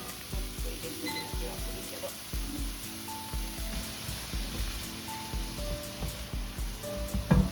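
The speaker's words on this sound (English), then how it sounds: "I take out the egg from the pan for now and fry the vegetables." Vegetables fry in a pan after an egg is removed, for Japanese-style fried rice, giving a steady crackling sizzle with scattered pops and light clatter throughout.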